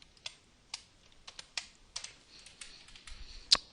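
Typing C# code on a computer keyboard: a dozen or so sharp, quiet key clicks at an uneven pace, with one louder keystroke near the end, close and alone.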